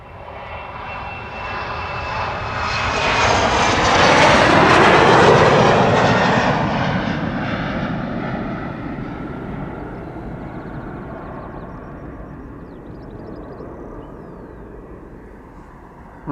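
A KLM airliner rolls past at Amsterdam Schiphol Airport, its engine roar swelling to a loud peak near the middle, then fading slowly into a distant steady rumble with no voices over it.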